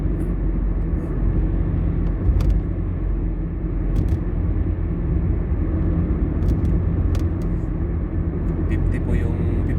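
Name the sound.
car driving on a road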